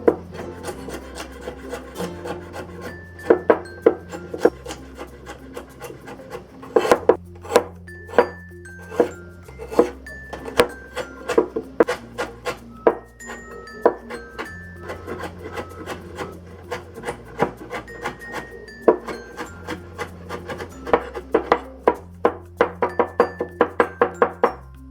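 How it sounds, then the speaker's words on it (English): A knife chops and minces ginger and garlic on a wooden board, with repeated sharp taps and rubbing scrapes under steady background music. "Let's mince the ginger and garlic."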